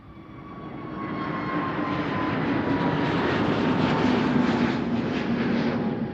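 16-year-old Boeing 737 jet departing Amsterdam Schiphol Airport for Bucharest, a swelling jet roar with a faint whining tone, rising in loudness and holding steady at middle distance.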